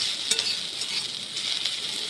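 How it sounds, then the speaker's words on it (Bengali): Onions and tomatoes fry in a pan, giving a steady hiss of sizzling with a few soft stirring scrapes, close up and alone, with no talk. "এই যে পেঁয়াজ আর টমেটো ভাজি"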